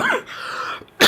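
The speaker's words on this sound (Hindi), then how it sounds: "अभी मैं खांसा, लेकिन खांसी नहीं आ रही थी" A deliberate, staged cough from a male teacher during a lesson, heard as a short burst at the start and a sharper burst at the end, loud and close with a quiet stretch between them.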